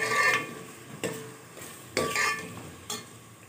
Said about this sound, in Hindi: इसको भून लें थोड़ा सा मटर।